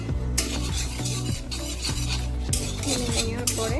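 Whole garam masala and panch phoron sizzle in hot oil in a pan, with a steady close frying hiss broken by repeated metallic scrapes and clinks of a stirring spoon.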